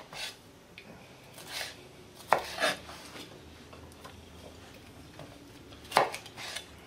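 Knife chopping eggplant and zucchini into halves and small pieces on a cutting board, a few scattered sharp knocks and clicks with soft scraping between them, close and alone, no talking.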